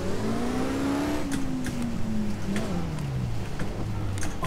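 A 1300hp Dodge Viper engine in CarX Drift Racing holds a steady, droning rev whose pitch climbs and then sags, with faint clicks and short bursts over the top, running continuously and loudly with no talk.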